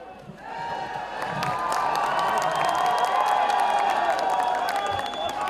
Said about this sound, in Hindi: एक एक शॉट पे जो तालियां सीटियां बज रही हैं